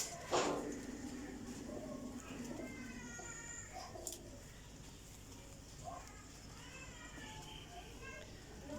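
Pigeons coo softly in a loft among pink-dyed birds, low cooing phrases surfacing now and then while someone talks nearly continuously over them and a sharp knock sounds once.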